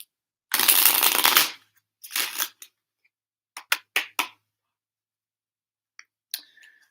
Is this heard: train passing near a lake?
no